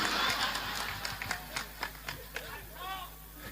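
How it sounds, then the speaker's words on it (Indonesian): A police officer claps his hands at a village Maulid Nabi religious gathering, a series of sharp, spaced claps beneath a crowd murmur and a speaking voice. "kayaknya Pak Polisi tepuk tangan"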